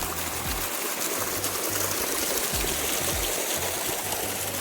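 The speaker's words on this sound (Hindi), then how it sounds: "ये इस तरीके की धाराएं आपको पूरे ट्रैक पे मिलती रहेंगी" A clear mountain stream on the Rudranath trek in the Himalayas rushes and splashes continuously, a steady broad wash of water close by with no talking over it.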